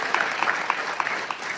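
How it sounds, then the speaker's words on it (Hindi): Audience applause in a lecture hall, a steady patter of many hands clapping at close range throughout the short stretch. "तालियां बजाने से क्या होगा"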